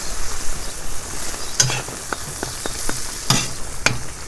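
Water boils in a kazan over an open wood fire for Fergana-style Uzbek plov, with whole peppers simmering in it. A steady bubbling hiss runs throughout, broken by a few sharp clicks and knocks.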